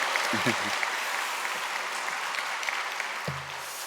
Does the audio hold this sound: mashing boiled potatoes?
no